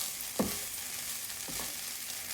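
Rice with soy sauce and chickpeas in a hot pan gives a steady, moderate sizzle, with two distinct scrapes of a spatula stirring through it and no talking.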